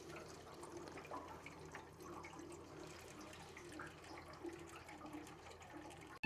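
Water draining steadily from an opened tankless water heater during a flush, a continuous close gurgling trickle with no speech.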